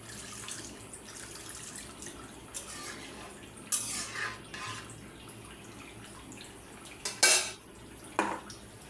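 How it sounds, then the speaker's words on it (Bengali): Water poured into a cooking pot of taro curry with small shrimp in a home kitchen: brief splashing gushes and a few metallic pot clanks, close and moderately loud, separated by quieter moments. "আর একটু জল দিয়ে দিব"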